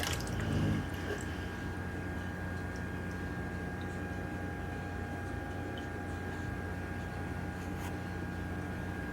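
Water poured and sloshing in a gold pan during panning, a steady wet trickle with soft drips and squishes, close and continuous, with a brief louder splash near the start.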